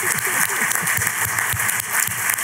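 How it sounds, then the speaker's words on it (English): Seminar audience gives sustained applause, a steady roar of many hands clapping throughout, fairly loud and close. "So would you please give a big round of applause for Shirley Palmer?"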